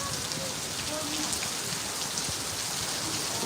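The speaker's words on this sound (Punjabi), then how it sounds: "ਬਹੁਤ ਫੁੱਲ ਮੀਂਹ ਆ" Heavy rain pours down steadily for at least fifteen minutes, a dense, loud hiss of drops drumming on surfaces with no pause and no voices.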